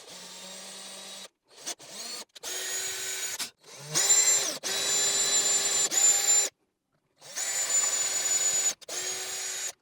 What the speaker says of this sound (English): So these need to be drilled out about a 1/2 millimeter bigger.